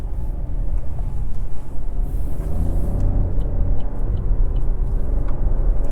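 A 2024 Chevy Trax 2RS drives along with a steady low engine and road rumble from inside the cabin, continuous for several seconds with no talking.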